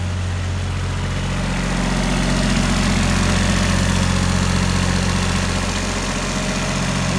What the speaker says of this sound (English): You got it running fine, sitting there idling.